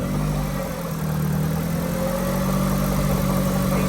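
Cold Nissan 240SX drift car engine idling roughly and steadily up close, a low rumbling drone holding for several seconds with no talk over it.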